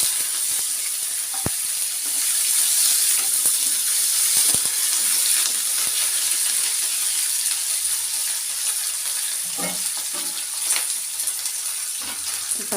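Chopped onions sizzle steadily in hot oil in a home kitchen pan while curry is being cooked, a continuous bright hiss with occasional clinks of a utensil, no talking over it.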